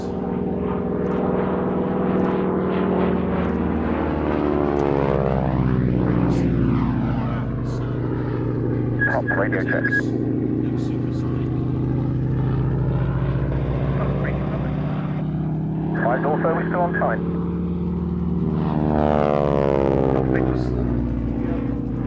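A Harvard propeller aircraft with a direct-drive engine and no reduction gearing drones steadily and loudly throughout at an evening air show, its pitch shifting as it passes, under radio chatter and commentary.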